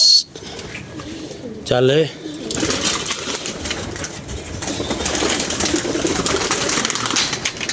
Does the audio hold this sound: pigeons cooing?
yes